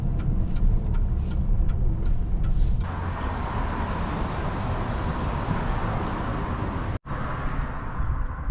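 A car drives along a town road, its steady engine and tyre noise loud and close for most of the span, with a brief cut near the end before the road sound resumes.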